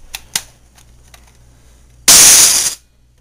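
A Transformers Armada Unicron toy fires with a loud, harsh burst of hissing rattle lasting under a second, preceded by a few faint clicks and mechanical taps.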